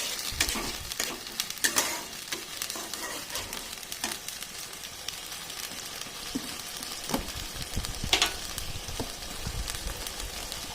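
Ginger, garlic, dried chilli and cumin sizzle steadily in a hot pan for a bhetki fish dish, close and continuous, while a spoon scrapes and stirs in irregular clinks and rustles.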